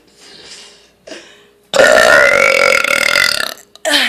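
After a couple of faint, quieter sounds comes one loud, sustained belch lasting nearly two seconds. A second burp starts abruptly just as it ends.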